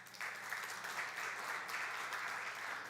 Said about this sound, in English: I want you all to give yourselves a round of applause for that